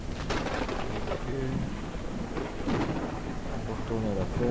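Thunderstorm in the farming game Ranch Simulator: steady rain hiss with rumbling thunder rolls and sharp cracks, fairly loud and continuous, with a voice talking over it at times.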